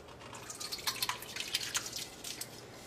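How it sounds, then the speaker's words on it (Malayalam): Cooked toor dal poured into a sambar pan in a Kerala kitchen, giving soft, irregular wet drips and splats that come close and moderately loud over about three seconds, with no talking. "വേവിച്ച് വെച്ചിരുന്ന പരിപ്പ് നമുക്ക് ഇതിലേക്ക് ഒഴിക്കാം"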